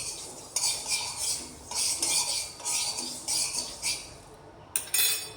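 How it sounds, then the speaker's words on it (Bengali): Whole cardamom and mace stirred in a dry wok, a steady run of scraping, rattling bursts as a utensil sweeps the spices around the metal pan, with brief pauses between strokes. "এগুলোকে শুকনো কড়াইতে একটু নাড়াচাড়া করে তারপরে গুঁড়ো করে নেবো এটাকে"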